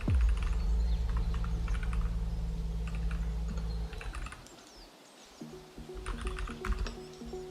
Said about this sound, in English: My current keyboard is too loud.